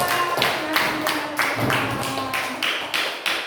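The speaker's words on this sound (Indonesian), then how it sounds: "tepuk tangan untuk Lutfia." A classroom of students claps for their classmate Lutfia, giving a steady rhythmic run of about eight bright, evenly spaced claps while faint voices carry on underneath.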